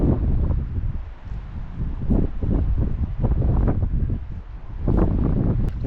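Strong wind gusts across a Rocky Mountain lakeshore, buffeting the microphone in a steady low roar that swells and eases in waves, with brief rustling bursts through the gusts.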